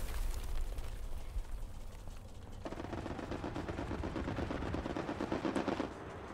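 Rapid bursts of automatic gunfire from the video game Hell Let Loose rattle continuously, with a harsher stretch of firing midway, heard alone without any talking.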